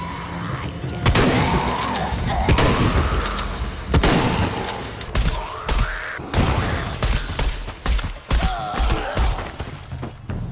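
Rapid video game gunfire from Shadow of the Tomb Raider in an underground temple, loud bursts of shots and booms in dense volleys with brief gaps, mechanical clatter between, no speech.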